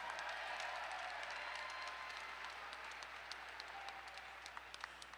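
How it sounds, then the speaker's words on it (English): A crowd at a combat sports event applauds the two fighters after their bout, with a dense, steady roar of clapping and scattered sharp claps that gradually thins. "fight fans, a round of applause for two great warriors and one great contest"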